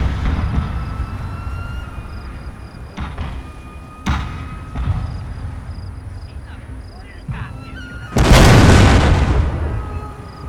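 Massed Gatling guns and wooden cannons firing in the Shogun 2 strategy game, heard as a dense rumble with several heavy booms and a loud burst near the end, under a steady battle din.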